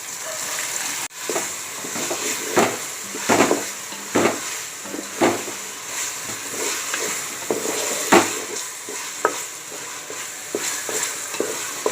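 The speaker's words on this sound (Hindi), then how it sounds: "झींगे को मैं अच्छे से प्याज में भूनूंगी" Shrimp frying with onions and softened tomatoes in a pan for shrimp pulao, with steady sizzling broken by repeated scraping stirs of a spoon, close and moderately loud.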